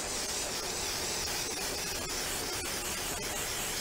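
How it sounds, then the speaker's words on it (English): A steady, close hiss of spray adhesive from an aerosol can onto foam, continuous and broadband for several seconds with no voices. "spray some foam up."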